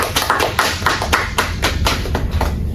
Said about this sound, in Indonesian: Berikan tepuk tangan buat mereka semua.